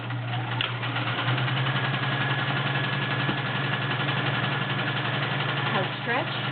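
A Kenmore 385.1249 convertible sewing machine runs with a steady motor hum and faint mechanical whir, close and continuous, with a voice speaking briefly toward the end.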